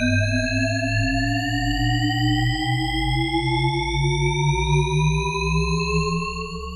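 A Shepard tone from a Christopher Nolan film score: stacked tones gliding steadily upward without seeming to arrive, over a low pulsing drone, loud and continuous with no voices.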